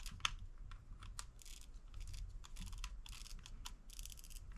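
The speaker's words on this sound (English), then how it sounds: "Listen to that, it's got a ratcheting function to it." An Olight PL-X weapon light being tightened onto a rail, giving a quick string of small, crisp ratcheting clicks in irregular bursts, close and fairly quiet with no talking.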